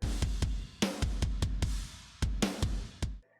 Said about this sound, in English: the drums are just the Periphery 4 kit and the normal kick and snare layer. It sounds like this.